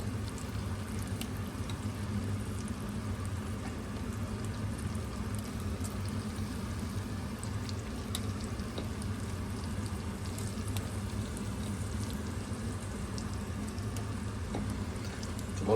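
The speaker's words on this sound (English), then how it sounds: "I'm going to throw my prawns in and let them also gently" Prawns cook gently in a pan of butter, giving a steady, even sizzle and bubble of hot liquid heard up close, continuous and unbroken with no voices.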